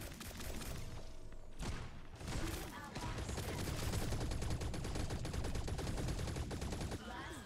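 Rapid gunfire in the mobile shooter game T3 Arena, a continuous faint stream of shots with thuds running the whole time.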